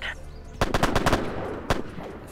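Gunfire in the police video game Police Tactics: a rapid burst of about six sharp shots, then a single separate shot a moment later, moderately loud over a faint background hum.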